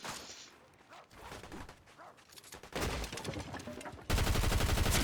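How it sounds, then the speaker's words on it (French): Gunfire from the video game Fortnite crackles in quick bursts, building from scattered shots to loud, sustained automatic fire toward the end. "Qui me tire?"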